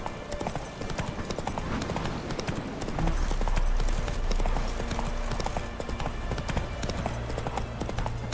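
Roach, the horse in The Witcher 3 video game, gallops with a steady, fast clip-clop of hooves throughout, loud and close, over a low rumble of game ambience.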